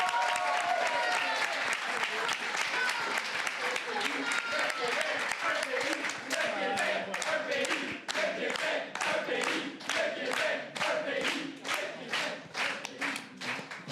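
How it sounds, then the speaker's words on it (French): An audience at a youth independence-movement talk breaks into applause, loud sustained clapping from a full room that continues for over ten seconds, growing into a rhythmic patter toward the end, with a voice speaking at the start. "ça mérite une autre main d'applaudissement"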